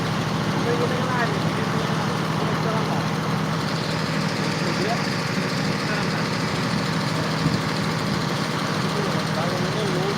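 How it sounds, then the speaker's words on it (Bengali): Sand dredging machine engine pulling sand beside the sea, a loud continuous mechanical drone with a steady throbbing beat and broad hiss, unchanging and close throughout. "বালি উত্তোলন মেশিন বালু টানে"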